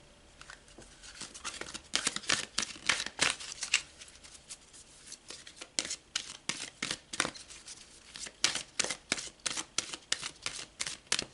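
Tarot-style cards riffled and shuffled in repeated bursts of crisp flapping and snapping, steady rhythmic handling close up over about eleven seconds with no talk.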